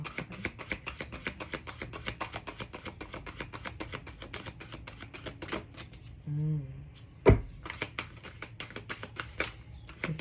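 Tarot cards shuffled in a steady run of quick, crisp riffling clicks, with a short pause and a single sharp tap near the middle before the shuffling resumes.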